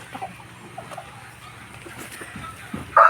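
Chickens on a small chicken farm make faint, scattered clucks close by, with a sudden louder noise at the very end.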